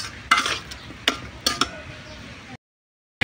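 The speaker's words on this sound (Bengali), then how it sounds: "এই যে মাংসটা কষানো হচ্ছে" Beef being sautéed in a wok, a few scraping stirs of a metal spatula over a sizzle, close and moderately loud, ending in a brief silence.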